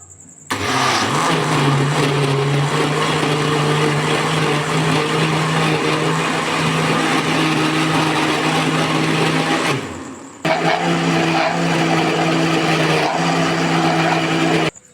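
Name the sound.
blender machine running, making peach sharbat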